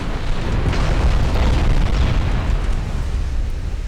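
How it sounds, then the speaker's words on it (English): Flash fire explosion tearing through warship turrets in the naval strategy game Ultimate Admiral: Dreadnoughts, a loud deep rumbling boom that rolls on for several seconds without fading much, no talk. "Flash fire, we lost the two front turrets on the Friedhof."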